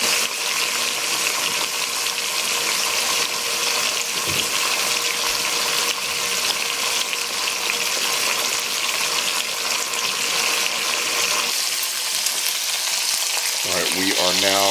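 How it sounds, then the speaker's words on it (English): Pot roast beef sears in a very hot pan before going into a crock pot, a loud continuous sizzle and spatter that holds steady throughout, with a brief clatter near the end. "we want that hot heat to sear both sides"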